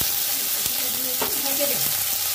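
Cauliflower frying in a pan gives a steady, close sizzle with faint scraping and stirring sounds on top.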